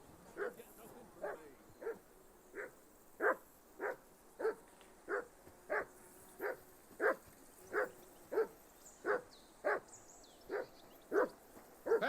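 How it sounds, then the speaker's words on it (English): A dog barking in the video game Kingdom Come Deliverance 2, about seventeen regular barks spaced under a second apart, moderately near and steady throughout. "That barking's driving me nuts."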